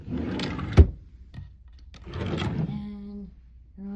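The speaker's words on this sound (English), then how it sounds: "Then you have your 4 drawers." Cabin drawers on the Carnival Luminosa cruise ship being slid open and shut: a sharp wooden knock followed by softer sliding rumbles and a brief squeak, close by with a low room hum.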